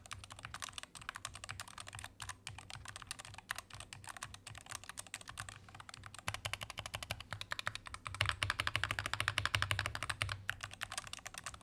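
Rapid, steady typing on an Epomaker Magcore 87 mechanical keyboard, a dense stream of crisp key clicks that gets slightly louder toward the end.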